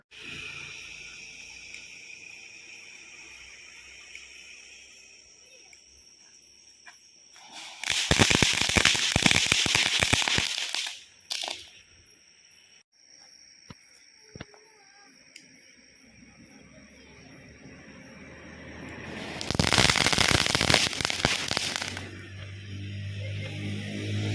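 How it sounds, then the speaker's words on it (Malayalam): Two loud bursts of Christmas firecrackers crackle in rapid strings, each lasting a few seconds, separated by quieter background with scattered pops and insect-like chirps. "ചില ആളുകൾക്ക് ക്രാക്കേഴ്സ് ഭയങ്കര പേടിയാണ്."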